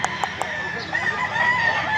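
A yellow-legged rooster in Mantalungon, Cebu crows in one long, sustained call against a busy outdoor background, with a few sharp clicks at the start and faint voices nearby.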